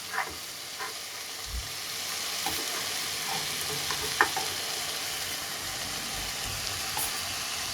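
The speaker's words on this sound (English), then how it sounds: "So we properly stir it and mix it up." Mushroom fried rice being stirred and mixed in a frying pan, with a soft continuous sizzle and occasional scraping clinks of the utensil, fairly quiet with no voices.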